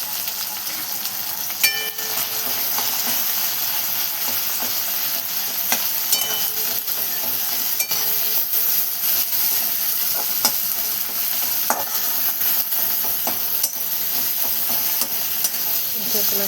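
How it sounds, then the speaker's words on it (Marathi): A paste of ground peanuts, chilies and garlic is stirred into frying masala for a pumpkin dish, giving a steady loud sizzle with repeated scraping strokes of a spoon against the pan. "ते लसूण मिक्स करून घेतलं."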